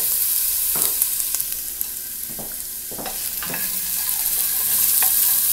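Diced onions and jalapeño sautéing in a pot, a steady hiss of sizzling under a few soft stirring scrapes and clicks, close by with no talk.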